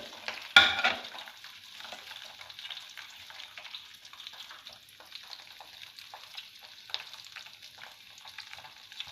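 Ingredients fry in a pan while being stirred, opening with a sharp clatter against the pan and then settling into a soft, steady sizzle with light scraping, close and without speech.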